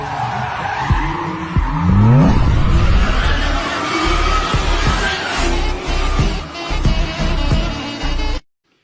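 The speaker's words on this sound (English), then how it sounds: "Accelerator, full speed, and then handbrake. Drift, okay?" A car revving at full throttle then sliding into a handbrake drift, with loud screeching tire squeal and engine roar filling the whole stretch before cutting off abruptly.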